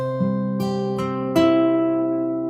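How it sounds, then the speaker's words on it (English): An acoustic guitar fingerpicks a C barre chord at the eighth position, thumb on the low strings and fingers on the top three, with notes plucked one by one and left ringing out together, clear and close. "we're going to start with a C bar chord in the 8th position"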